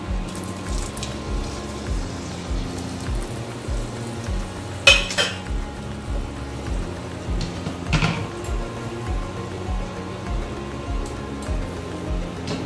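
Whole spices and dry red chilli crackle and sizzle in hot oil for a kabab curry gravy, a steady close frying hiss with stirring scrapes and a couple of sharper utensil clanks against the pan, no voices.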